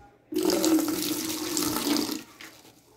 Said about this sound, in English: Now I am going to remove some water.